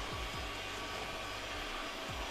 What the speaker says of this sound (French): Regardez on voit bien la petite brosse rotative qui passe sous la jointure là